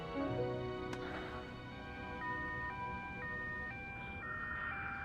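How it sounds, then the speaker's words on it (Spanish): An ambulance siren wails continuously at moderate distance, its alternating tones shifting steadily over a low background hum, with no voices present. "¿Cómo es que hay ruido de ambulancia?"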